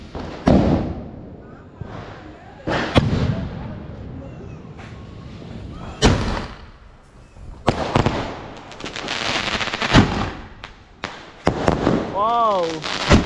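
Diwali sky shot fireworks launch and burst in a rapid, irregular string of loud cracks and booms, some near and some farther off, with a rising whistle near the end and people talking throughout.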